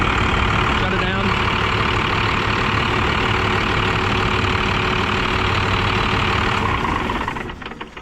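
Diesel engine of a hotshot pickup truck idling steadily and loud up close, a broadband rumble that holds for about seven seconds before dropping off as the engine shuts down.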